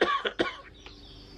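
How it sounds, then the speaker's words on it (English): A person coughs in a short cluster of two or three rough, husky bursts close by, then the sound fades into quiet room noise. "I've still got my cough."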